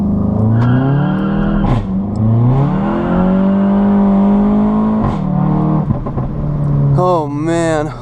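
A VW Mk7 GTI with an APR Stage 2 tune and DSG gearbox launches hard under launch control, its engine revving loud and close and climbing through rising gear pulls with brief shift dips, then ending in a squeal of spinning tires.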